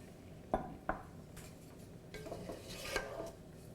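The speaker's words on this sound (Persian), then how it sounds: "یه کمی که سرخ شد آب مرغ بهش اضافه میکنم" Chicken broth goes into a pot of fried onions for chicken noodle soup: two sharp clinks of a utensil against the pot, then a soft pour and swirl of liquid, close and quiet, with no voices.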